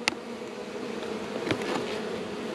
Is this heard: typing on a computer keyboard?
no